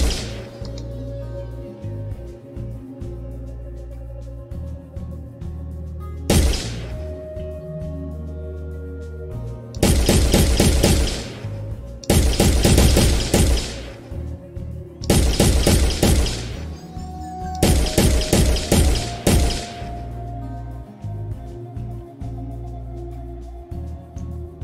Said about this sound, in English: I add a recoil when you fire the weapon